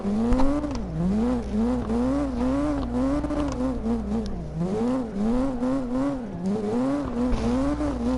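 Continuous engine note of a drift car in the racing game CarX Drift Racing Online, rising and falling as the throttle is worked mid-slide, with tire noise underneath and no voices.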